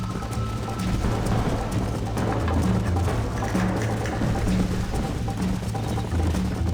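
Horse galloping in Red Dead Redemption, with a steady rhythmic run of hoofbeats under a continuous low rumble of game ambience, moderately loud and consistent throughout.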